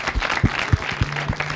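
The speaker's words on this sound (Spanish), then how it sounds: "un aplauso" A studio audience on a Mexican TV talk show breaks into applause, a short burst of close, dense clapping lasting under two seconds.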